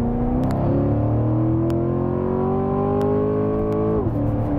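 Corvette C7 Stingray's 6.2-litre American V8 pulling hard in second gear on hill roads, a loud, continuous rising roar that climbs steadily, then drops sharply as the next gear engages, heard from inside the car.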